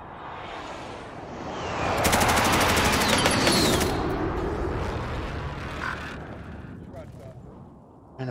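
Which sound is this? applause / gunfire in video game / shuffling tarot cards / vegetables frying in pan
gunfire in video game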